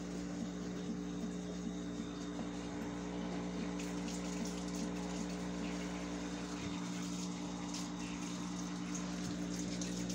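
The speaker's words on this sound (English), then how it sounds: "Let me rinse this off again." Water runs steadily from a tap while an aquarium item is rinsed, a constant low rushing flow with a faint pump-like hum, moderately quiet and uninterrupted.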